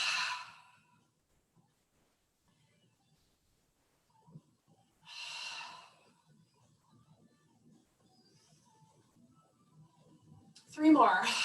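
Three audible breaths during a standing balance exercise: a soft exhale at the start, another mid-way, and a stronger breath at the end, separated by quiet with faint rustling.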